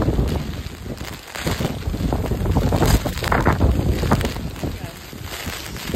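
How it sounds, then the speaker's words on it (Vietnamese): Strong wind in Orlando ahead of Hurricane Milton roars and buffets the microphone in continuous loud gusts, swelling and easing over several seconds. "Bão chưa vô mà gió rất là nhiều rồi nè."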